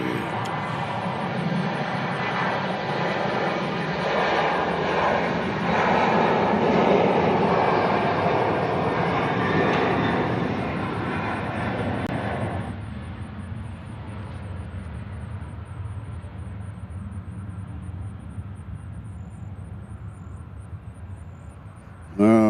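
Jet engines of an American airliner roar loudly on the runway at Nashville International Airport, a broad sustained rumble that later drops to a quieter steady whine, with a voice talking at times.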